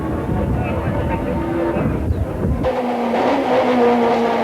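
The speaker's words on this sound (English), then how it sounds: "This is race cam action from Grant McCleary's Opel Vectra." Onboard sound from a 1995 Opel Vectra touring race car at East London, a steady loud engine drone with a gear change or lift partway through, then a higher sustained engine tone.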